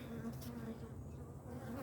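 Honeybees buzz steadily at a backyard hive, a close, continuous droning hum with slight wavering in pitch and no talk over it.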